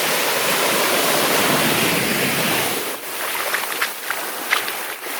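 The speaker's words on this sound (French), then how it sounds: "Donc je suis le seul à marcher sur la plage." Broadband wash of surf breaking on a beach at Havelock Island, India, loud and steady at first, then quieter with soft crunching steps along the sand.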